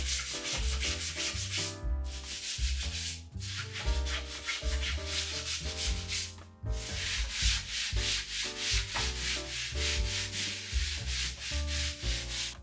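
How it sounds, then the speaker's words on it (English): Continuous rhythmic scuff sanding of a painted plant stand, a scratchy back-and-forth rubbing in steady strokes with brief pauses, close and fairly loud. "I'm just giving it a scuff sanding for something for the new primer and paint to cling on to"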